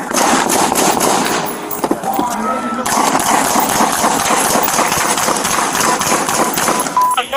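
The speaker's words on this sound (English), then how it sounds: "Shots fired on the board. Rifle shots." Rifle gunshots fired from a house during a police shootout in Arizona ring out as rapid, repeated sharp cracks over outdoor noise, with voices talking over them.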